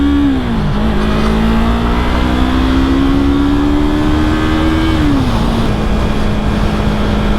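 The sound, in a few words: motorcycle engine revving on a night ride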